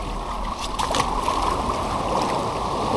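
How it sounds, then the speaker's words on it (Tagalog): Strong sea waves wash steadily onto a small island beach in El Nido, Palawan, producing a continuous loud roar and hiss of surf with no pauses. "kaya lang malakas yung alon"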